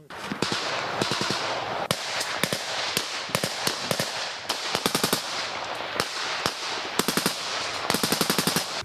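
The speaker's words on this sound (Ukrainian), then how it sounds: "у бік українських позицій починають летіти ворожі кулі і гранати" Dense small-arms fire near Ukrainian positions around Bakhmut: rapid machine-gun bursts and sharp single cracks pop continuously, fairly loud and close, with brief gaps between volleys and no speech.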